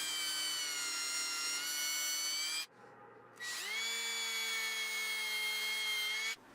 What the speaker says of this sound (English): followed that up by drilling 2 more holes for a couple mounting screws